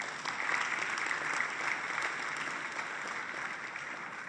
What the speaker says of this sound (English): Please give her a round of applause to encourage her.